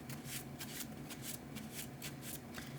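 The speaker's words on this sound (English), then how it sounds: "which means I have to shuffle my deck" A deck of cards for a solo tabletop card game is shuffled up close, with quick, quiet riffling bursts repeating in a steady rhythm and no talking.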